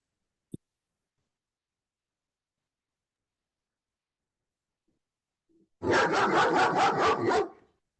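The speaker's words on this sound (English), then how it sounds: "Who let the dog in? Woof, woof, woof." A dog heard over a video call barks in a quick, close run of about seven loud barks, preceded by a single faint click and long silence.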